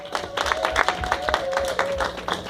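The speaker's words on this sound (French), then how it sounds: "Ok, on applaudit le Seigneur." A church congregation at a wedding applauding, with sharp, irregular claps from a modest crowd over a sustained hum, and voices talking faintly underneath.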